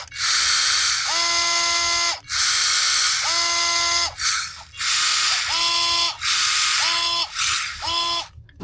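A Dremel cordless electric screwdriver spins with no load in repeated short bursts: a high, buzzing ratchet-like whir that starts and stops about eight times, close and loud, with no talking.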